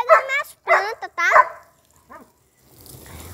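A dog in a video game barks three times in quick succession, loud and close, followed by a short yip and then quiet rustling noise.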